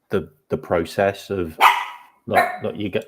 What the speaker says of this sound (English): Sorry, mate, that's my dog.